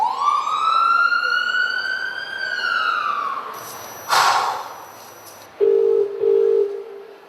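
An ambulance siren rises and then falls in a long, loud wail close by. A sharp burst follows, then two short electronic tones.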